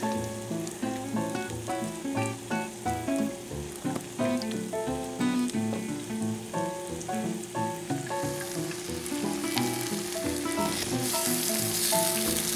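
Butter pecan French toast sizzles and crackles steadily in a hot pan, a dense hiss of frying grease under soft background music with harmonic tones, with no talking.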